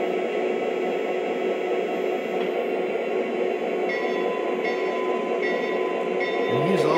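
A small Lionel model train locomotive pushing a boxcar rumbles steadily along its track with a continuous whirring hiss, a few faint higher tones surfacing near the end.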